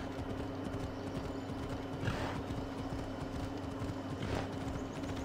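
Hooves of the horse Phobos clip-clopping in a steady galloping rhythm in Assassin's Creed Odyssey, continuous and moderately close, with faint game ambience and no talk.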